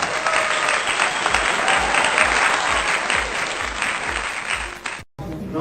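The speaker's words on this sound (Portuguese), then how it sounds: "Uma salva de palmas para a Janja" Applause from a crowd, dense and steady clapping close up that stops abruptly near the end.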